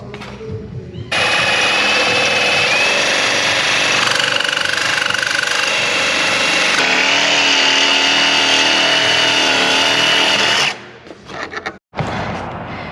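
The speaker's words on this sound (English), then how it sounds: "so we tried to play nice, but now the sawzall's out" A reciprocating saw rattles steadily for about ten seconds while cutting through the exhaust pipe of a Lexus LS400. The loud buzzing has a whining tone and sputters briefly as the cut ends.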